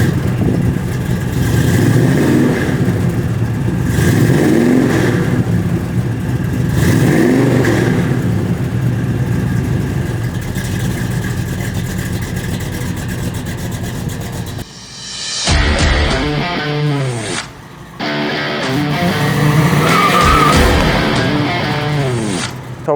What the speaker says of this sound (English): how about we fire up this 400 cubic inch engine